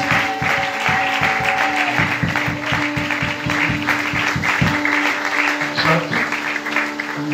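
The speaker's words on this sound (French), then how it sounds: "Acclame très fort le Seigneur." A French-speaking church congregation claps and cheers loudly in praise, with rhythmic clapping and a sustained musical tone beneath the crowd noise.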